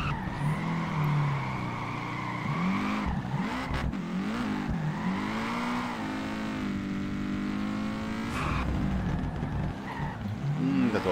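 Car drifting in the video game Peak Angle, with a revving engine and long wavering tire squeals that rise and fall through each slide, loud and continuous with no talk over it.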